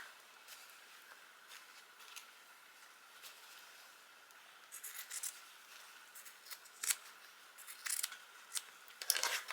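Scissors snip through fabric while a beginner grocery tote is sewn, quiet blade rubbing at first, then a series of sharper close snips and crunches toward the end.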